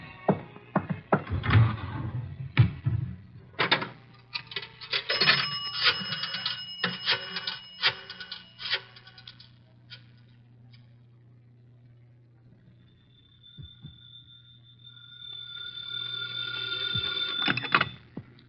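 A telephone call is placed from a booth: a rapid clatter of dialing and mechanical clicks gives way to a sustained ringing tone that rises again toward the end, with no voices heard.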